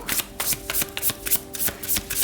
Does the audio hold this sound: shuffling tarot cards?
yes